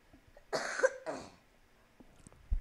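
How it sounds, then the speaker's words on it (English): Two quick, close coughs in a row, sharp and raspy, followed by quiet with a few faint clicks. "Had a little cough there."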